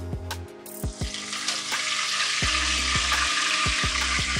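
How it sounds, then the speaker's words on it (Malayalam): Curry leaves crackle and spit in hot chicken oil for a Kerala-style fried chicken, a loud steady sizzle with sharp pops and a few low knocks throughout. "ഞാനിതിലേക്ക് കുറച്ച് കറിവേപ്പില ആഡ് ചെയ്ത് കൊടുക്കുന്നുണ്ട്"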